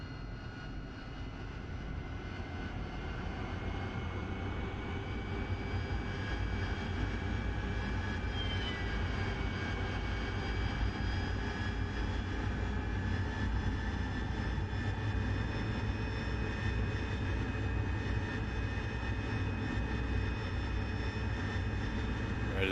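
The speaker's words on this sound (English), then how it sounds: "I'm going to have a go at a vertical takeoff." A Harrier jet engine roaring steadily during a vertical takeoff in a flight simulator game, a loud continuous whine with rising tonal harmonics and no talk.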